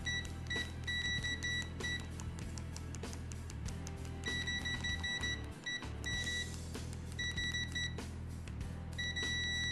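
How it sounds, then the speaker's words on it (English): A Richmeters 113D multimeter's continuity buzzer beeps repeatedly in short, steady high-pitched tones, on and off in irregular bursts, loud and close with clicking in between. "Good sounding buzzer, speaker, loud, quite audible."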